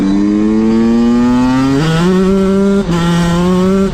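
A Yamaha YZ125 two-stroke dirt bike engine revs loud and close, its buzzing pitch climbing in steps as it is held high, briefly dropping and rising again, with no voices.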